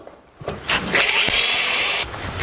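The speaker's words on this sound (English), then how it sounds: "We'll drill an 1/8 inch starting hole" A power drill bores a 1/8-inch starting hole in the frame of a 1949 Chevrolet gasser, whining steadily and close for just over a second before cutting off abruptly.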